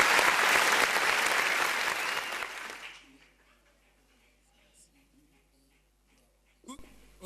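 Loud audience applause at a school ceremony that fades out after about three seconds, leaving a quiet room with faint voices and a brief knock near the end.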